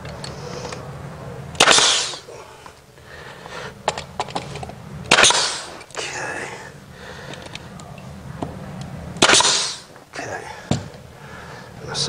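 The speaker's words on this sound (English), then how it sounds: "once again I'm going to shoot a nail right at the top" A nail gun fires nails into wooden steps during stair installation, giving a few loud, sharp cracks spaced several seconds apart, close up, with quieter handling noise in between.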